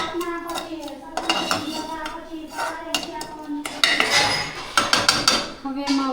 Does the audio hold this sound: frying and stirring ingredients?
yes